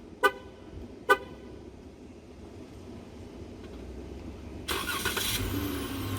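A 2014 Chrysler Town & Country van with an aftermarket remote start: two short, sharp horn toots close by, a quiet pause, then the engine cranks and catches into a steady idle.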